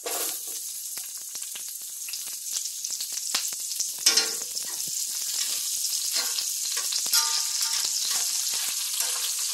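Chopped onion lands in hot oil in a pan and crackles into a bright, steady sizzle. Bursts of stirring rise and fall, close by and moderately loud, with no talking.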